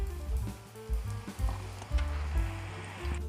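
Cauliflower fritters (pokkavada) frying in hot oil on a low flame, with a steady crackling sizzle and repeated low bubbling surges close by, no voices.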